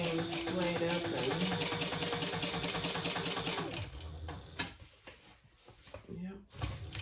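A sewing machine topstitches a tote bag in a fast, even needle rhythm for about four seconds, then stops, leaving handling clatter and a brief voice.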